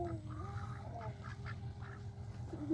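Ducks quack softly while eating carrot and rice, a few short calls over a steady low background hum with light bird chatter throughout.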